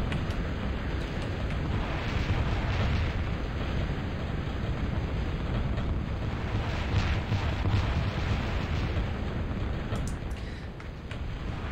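Indirect artillery fire sprays across the battlefield in Supreme Commander: Escalation, making a sustained, thick roar of massed explosions with faint crackling bursts scattered through it, steady and loud for the whole stretch.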